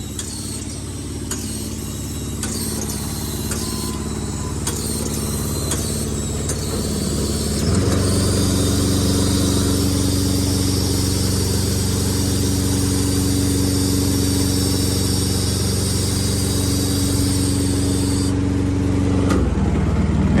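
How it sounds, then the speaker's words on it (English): A 60HD+ aerial lift engine runs steadily while its outriggers are lowered, a loud continuous motor drone that rises in pitch and strains partway through under hydraulic load, with faint clicks early on. "from here, I can go down with my outriggers"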